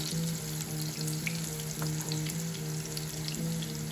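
Pumpkin slices fry steadily in hot oil in a pan, a continuous soft crackling sizzle with occasional small pops, close and alone without talk.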